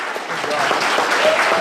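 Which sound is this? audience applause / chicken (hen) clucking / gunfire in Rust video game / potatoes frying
audience applause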